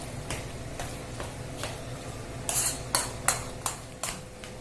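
Ladyfish nugget ingredients mixed in a bowl, with a run of soft, evenly spaced scraping strokes that turn sharper and louder toward the end over a low background hum.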